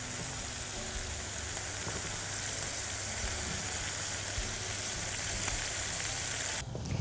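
Minced garlic sizzling in butter or ghee in a small pan, a constant, bright, close frying hiss that runs steadily, with a brief clatter near the end.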